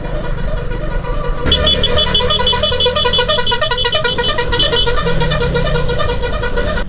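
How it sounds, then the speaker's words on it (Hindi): A truck horn on the road honks in a loud, musical multi-tone blare that starts partway in and repeats in quick rhythmic bursts, with road traffic rumbling underneath. "बस यही हॉर्न चाहिए मुझे।"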